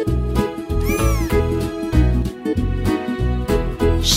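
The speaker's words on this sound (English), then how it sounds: "Cats like to chase mice. A baby cat is called a kitten." A cat meows repeatedly, loud and close, in a quick series of drawn-out, wavering cries with short gaps between them and no talk.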